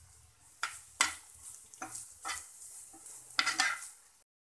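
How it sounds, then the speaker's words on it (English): Onion and coconut roasting in a pan for a Mangalorean egg gravy, stirred in irregular scraping strokes with a few sharper knocks against the pan over a light sizzle, close, before it cuts to silence at the end. "I need it to just heat up a bit, and maybe the onion changing a bit of its color and the coconut getting slightly brown"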